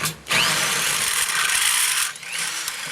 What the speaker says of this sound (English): I run a 1/2-inch drill through there